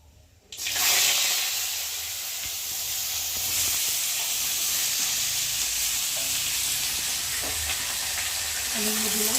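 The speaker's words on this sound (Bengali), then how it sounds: "এখন আমি আলুগুলোকে দেবো" Potatoes dropped into hot oil with black cumin tempering, setting off a loud, sudden sizzle after a brief quiet start that then settles into steady close frying and stirring, with no talk.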